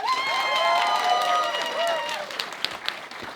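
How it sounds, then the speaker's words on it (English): A live radio show audience breaks into applause and cheering, a dense wash of clapping under a sustained voice or held tone that fades, with scattered louder claps trailing off at the end. "Can we have a round of applause?"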